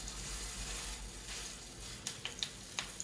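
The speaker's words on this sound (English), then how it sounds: "you can tell that pan was ready just by hearing that sizzle" Quiet sizzling of salmon cakes frying in a pan, with a few sharp pops and crackles near the end.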